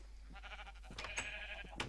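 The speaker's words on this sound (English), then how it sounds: "These darker coloured sheep" Minecraft sheep bleat in a short, quiet burst, two or three wavering game-animal cries close together, with no talk over them.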